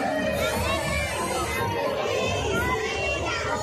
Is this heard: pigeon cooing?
no